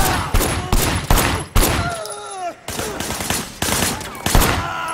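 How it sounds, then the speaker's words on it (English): Several loud gunshots crack out in the open-world action game Sleeping Dogs, arriving in an uneven burst with short gaps between blasts, over game ambience and brief tonal sound effects. "Shooting at the guys over there."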